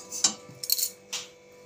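Whole spices including mace and black cardamom get a light stir in a dry pan, a few quick metallic scrapes and clinks of a spoon against metal, close and soft with quiet gaps between.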